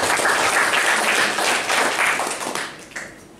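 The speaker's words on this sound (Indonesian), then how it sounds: "Boleh tepuk tangan yang beriman" Applause from a church congregation during a Sunday morning service, a dense burst of many hands clapping that swells loud and steady before thinning and fading out near the end.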